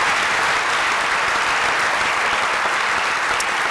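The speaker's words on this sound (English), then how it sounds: "Could you please give Dr. Lee a big round of applause?" An audience at a high school honors ceremony applauds Dr. Lewis Lee, with steady, dense clapping from a large crowd that stays loud and even for the whole stretch, no voices over it.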